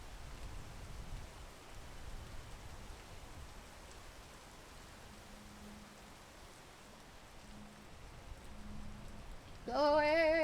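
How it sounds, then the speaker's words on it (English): Rain falls steadily as a soft, diffuse hiss, faint and continuous, with a brief louder tonal sound breaking in at the very end. "I'm just gonna wait until the rain is done."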